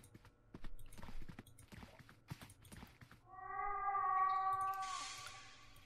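A cat meows in The Last Door horror game, one long, drawn-out, echoing yowl that swells and fades after a few soft footstep-like knocks.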